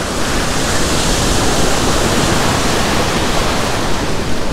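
Incoming tide waves surge into a beach gutter, a loud, continuous broadband wash of surf rushing close by with no pauses.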